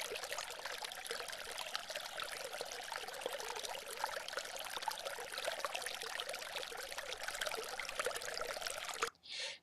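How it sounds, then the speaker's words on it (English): Water in a garden pond feature trickles and drips in a continuous soft, splashy patter, steady and faint with no voices, stopping just before the end. "I want to play you the sound of small drips here"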